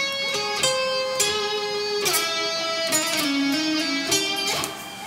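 An electric guitar solo section rings out loud and alone, notes plucked in quick succession with slides, hammer-ons and pull-offs bending pitch between sustained tones.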